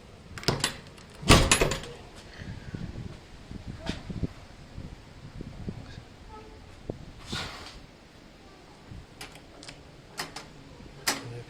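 A front door is pulled open by its handle, giving a few faint clicks and a soft rattle of hardware, followed by scattered light knocks and taps in a quiet room.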